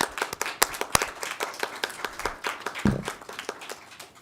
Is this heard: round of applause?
yes